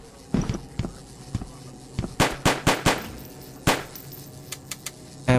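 Gunfire in the video game Object N: a scattered series of sharp cracking shots, some in quick bursts and others single, loud and close against a low background hum.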